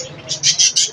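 Several short, bright chirping calls from parrots and pigeons in quick succession, fairly close, over a low background murmur.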